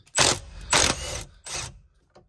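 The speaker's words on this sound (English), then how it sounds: "13 millimeter to get the bolt off of the steering wheel." A 13 mm ratchet wrench loosens the steering wheel bolt on a 2003 Jeep TJ, giving three short, loud bursts of rapid ratcheting clicks with brief pauses between them, close up and with no talking.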